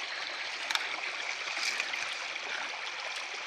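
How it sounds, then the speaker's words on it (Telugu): Hill stream water runs downhill over rocks in the wild with a steady, close rushing and gurgling wash, with no talking over it. "అదిగో అదిగో అదిగో వాటర్ ప్రవహిస్తుంది"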